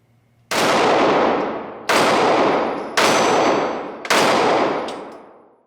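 Four loud, sharp shots from a Springfield Hellcat pistol ring out at an outdoor range, each with a long decaying echo, fired at a steady, slightly uneven pace about a second apart.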